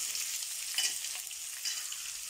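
Sliced onions frying in a pan for Manjali biryani, a steady close hiss of oil with a couple of brief scraping stirs, no talk.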